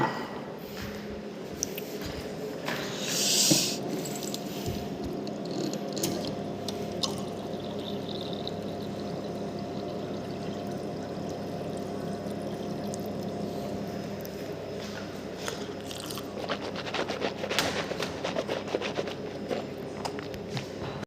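Water pouring from an office dispenser into a cup, a continuous liquid stream under a steady room hum, with footsteps and small handling clicks around it.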